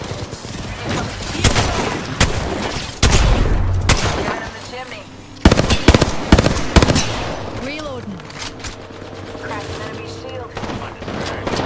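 Gunfire in the Apex Legends video game: bursts of rapid shots and sharp cracks come in clusters across the scene, loud and close, mixed with other game sounds and a player talking over it.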